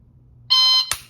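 A single sharp electronic beep sounds for about a third of a second, followed by a brief click, in an otherwise quiet setting.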